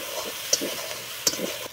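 Chopped tomato dropped into fried garlic, ginger, onion and green chilli, giving a steady close sizzle with two sharp scraping stirs in the pan and no talking.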